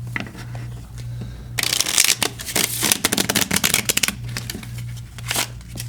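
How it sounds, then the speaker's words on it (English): Playing cards are shuffled up close in a rapid burst of riffling and flicking that lasts several seconds, with a faint hum underneath and no talking. "take your cards, shuffle them up"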